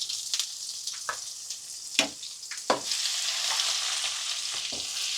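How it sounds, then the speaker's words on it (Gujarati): Garlic-ginger paste sizzling in hot oil in a pan along with cinnamon, cloves and asafoetida, a steady crackling hiss close up, punctuated by several sharp scrapes and clanks of a spoon stirring, with no voices. "લસણની આદુની પેસ્ટ નાખી દઈ."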